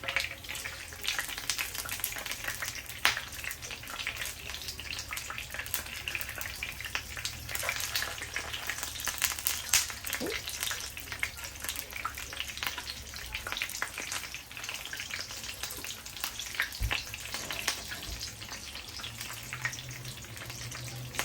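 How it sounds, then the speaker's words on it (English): Big pork chops sizzle and crackle steadily in a frying pan, about three at a time, a continuous close hiss of hot fat with occasional pops and no talk. "this same pan that we're going to be frying these pork chops in"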